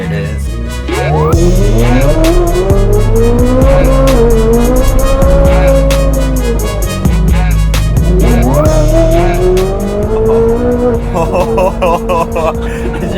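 Ferrari 458 Spider on a public road on cold tires, its engine droning and rising in pitch through gear changes, with tire squeal and occasional voices inside the cabin.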